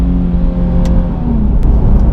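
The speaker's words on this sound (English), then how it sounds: "with this automatic transmission, it does have rev matching downshifts" A 2014 Nissan 370Z's naturally aspirated V6 blips during a rev-matched downshift with its automatic transmission, a loud sustained engine drone from the cabin that swells briefly mid-way.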